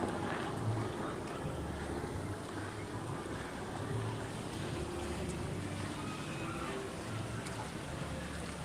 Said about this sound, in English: Here goes the river.